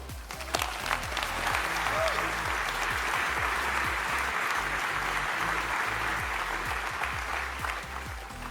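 An audience claps steadily for several seconds, a dense and even wash of applause that neither swells nor fades.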